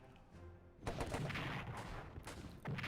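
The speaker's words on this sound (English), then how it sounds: "More artillery." Artillery fire rings out in the World War 1 strategy game Strategic Command, with a pair of heavy, booming blasts and a crackling rumble that carries on between them, loud and close with no voices.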